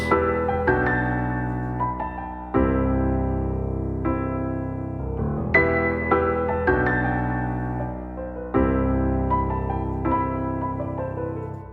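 A piano plays a looping MIDI melody with chords, the same phrase returning several times at an even tempo, clean and up front.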